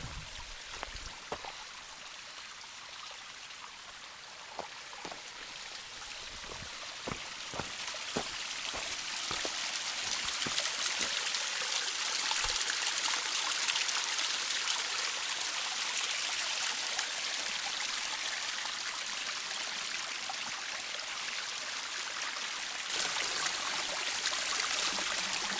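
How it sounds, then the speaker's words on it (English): Fall Creek runs along the Pacific Crest Trail, a steady mountain stream rushing and trickling close by with a constant broad wash of water that swells slightly partway through, with no voices. "This is Fall Creek."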